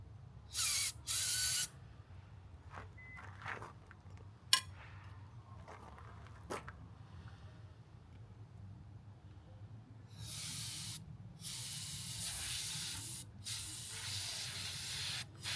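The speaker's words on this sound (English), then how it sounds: "we shot compressed air through everything" Short bursts of compressed air blasting through parts of a Honda EU2000i generator, a few brief sharp hisses early on, then longer sustained sprays near the end, close and fairly loud.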